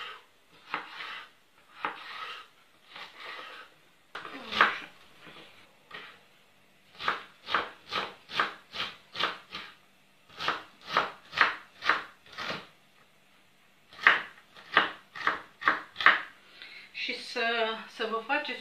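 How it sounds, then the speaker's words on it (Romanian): A knife slicing a root vegetable into thin strips on a cutting board while making Romanian chicken borscht with homemade noodles, giving a rapid series of crisp, close chops in quick bursts, with a voice talking briefly at the start and at the end. "îl tăiem șovițe"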